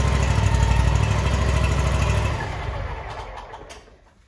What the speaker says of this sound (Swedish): Lägger i choken för att hjälpa motorn att starta.